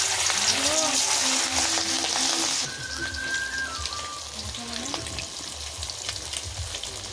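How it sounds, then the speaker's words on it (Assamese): Whole fish frying in hot oil in a pan, with a loud continuous crackling sizzle that softens after a few seconds as it carries on, while faint background sounds drift in. "এয়া মাছ ভাজি আছোঁ"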